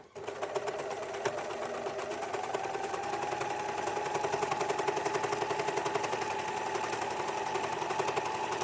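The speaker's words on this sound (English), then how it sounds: "The 664 Pro, the overlocker Jules is using at the moment." A 664 Pro overlocker runs steadily and loudly, its rapid stitching rattle continuous for several seconds while it neatens a fabric edge.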